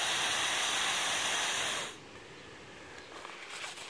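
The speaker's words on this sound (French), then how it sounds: "Vous allez entendre la sortie du gaz." Gas hisses loudly and steadily from an MSR Superfly camping stove burner for about two seconds, then drops to a much softer hiss.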